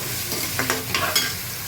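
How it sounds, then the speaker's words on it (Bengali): Potatoes and onions sizzle and fry in a pan, with a few stirring scrapes breaking through the steady crackle, close and fairly quiet with no voices. "আলু পেঁয়াজ ভাজছি,"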